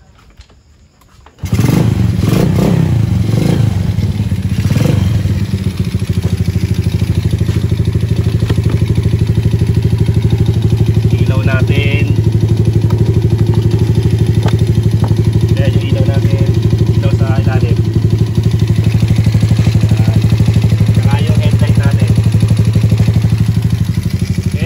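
A skeleton (bare-frame) motorcycle engine starts after a brief quiet moment, then runs loudly and steadily at a close idle with a throbbing putter, and a voice talks intermittently over it.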